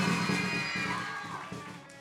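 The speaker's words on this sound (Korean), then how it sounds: "박수." A church audience at a closing worship service and praise competition claps and cheers, a dense, sustained wash of applause with scattered shouts that slowly fades toward the end.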